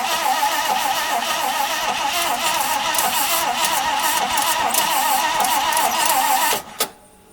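A 1955 Pontiac Chieftain engine runs loud and close with a steady, rough mechanical drone for about six seconds, then cuts off abruptly, leaving a brief knock and quiet.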